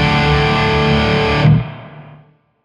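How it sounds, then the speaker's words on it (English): A distorted, effects-heavy electric guitar tone on a VH-X preset with plate reverb, a sustained chord ringing for about a second and a half, then cutting off into a smooth, dense reverb tail that fades out, with no talking. "This is with plate reverb."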